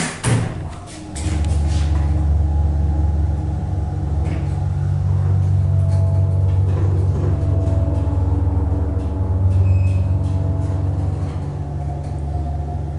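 A steady low motor hum and rumble from a Westinghouse hydraulic elevator motor runs throughout, close and fairly loud, with faint thumps and rattles over the drone.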